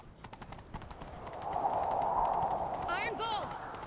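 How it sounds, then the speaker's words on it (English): Horse hooves clip-clop in The Witcher 3, the rhythm building into a louder gallop partway through, with a voice briefly heard near the end. "Grab a horse, we'll chase him down."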